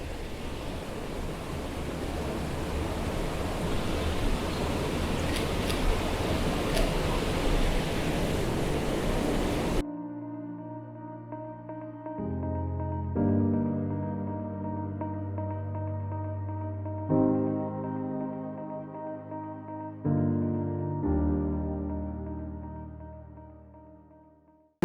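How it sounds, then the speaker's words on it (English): A small waterfall on a little stream by the River Coe in Glencoe, Scotland, rushes as a steady, dense roar for about ten seconds, then cuts off abruptly as soft tonal music takes over. "I found this little waterfall."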